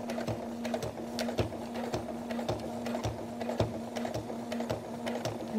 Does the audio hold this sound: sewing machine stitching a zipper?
yes